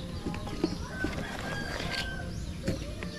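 Chickens on a Philippine farm give soft, scattered clucks and short calls at mid distance over a steady outdoor background, with a few brief louder notes.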